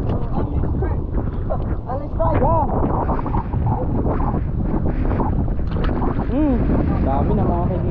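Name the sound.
strong wind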